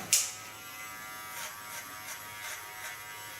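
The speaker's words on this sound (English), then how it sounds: "put my clipper to the back and use the natural lines to go in the opposite lines" Electric hair clippers hum steadily while cutting hair at the back of the neck, with a faint buzz and soft repeated pulses as the blade passes, close and without talk.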